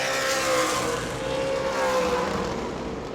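A stock race car in ASA Stars National Tour happy hour practice at New Smyrna roars steadily around the track, its engine tone holding strong and close throughout with a slight rise and fall as it passes.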